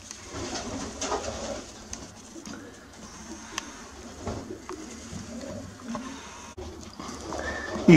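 Long-distance racing pigeons in a loft collection give soft, low coos, faint and intermittent against a noisy background with scattered shuffles and knocks.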